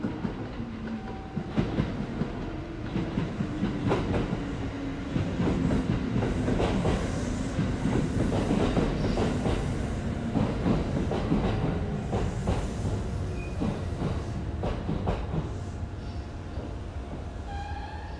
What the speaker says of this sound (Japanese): 津新町行きの普通電車が3両編成で参ります